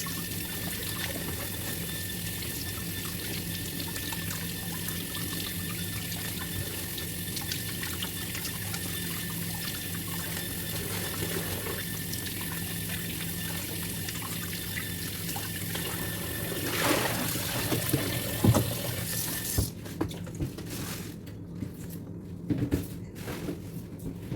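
Tap water trickles and pours steadily as lamb neck is rinsed under a faucet in a home kitchen, a continuous close wash with a few louder splashes and clatters near the end.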